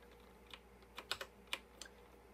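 Short burst of keystrokes on a vintage computer keyboard, a handful of distinct clicky taps in an uneven rhythm, close and fairly quiet over a faint background hum.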